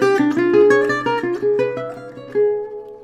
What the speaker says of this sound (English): This is the sound of the diminished scale.